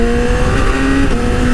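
A Yamaha R6 sport motorcycle fitted with a quickshifter revs hard and loud up close, its high engine whine holding steady and then dropping for an instant at a quick upshift before climbing again.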